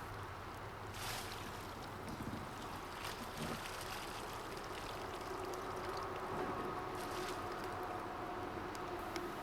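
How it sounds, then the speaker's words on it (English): Water splashing and trickling out of an upturned kayak, a soft, steady wash of pouring water with brief surges, faint and fairly close with no talking. "lift the end of the boat and quickly flip it over to drain out some more water"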